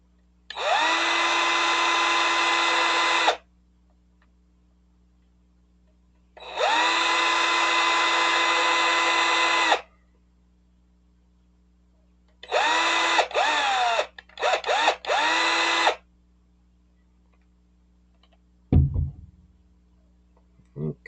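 Power drill driving screws while a deck vent hood is installed: two long steady whines, then several short stop-start bursts, with a thud near the end and a low hum underneath.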